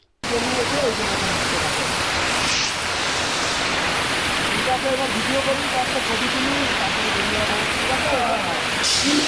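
A waterfall at Ajodhya Pahar in Purulia roars as a steady, dense wash of noise throughout, with people talking faintly beneath it.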